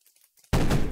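After a brief near-silence, a single loud, sharp shotgun blast in a Roblox video game bursts in and rings on, close and punchy.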